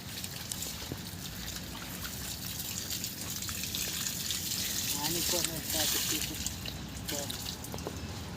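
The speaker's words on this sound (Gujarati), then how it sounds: "પાણી નાખવા ધીમે ધીમે નાખજો." Water trickles and splashes steadily as it is poured slowly onto a tea plant, with people chatting nearby over the gentle flow.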